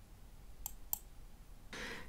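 Two crisp computer mouse clicks sound close and quiet about a quarter second apart, followed by a brief rustling noise, with no talking.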